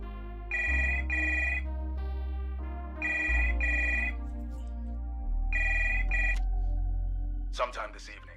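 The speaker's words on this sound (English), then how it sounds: "I dial my sister's phone." In the video game Drifter, a phone rings after a number is dialed: three evenly spaced electronic ring bursts over a low held tone, followed by a brief rustle.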